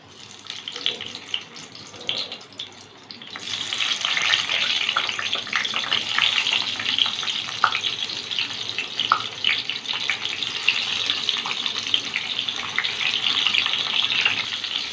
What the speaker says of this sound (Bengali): কড়াইতে সর্ষের তেল গরম করে নিয়েছি,